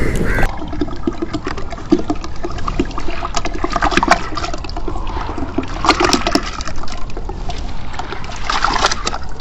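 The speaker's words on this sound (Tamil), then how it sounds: "தண்ணி கொதிச்சிருச்சு நம்ம அரிசி கழுவிட்டு வந்துட்டோம் இப்போ அரிசி சேர்த்துக்கலாம்" Water splashes and sloshes as washed rice is poured into a pot of boiling water, with bubbling and gurgling liquid sounds throughout.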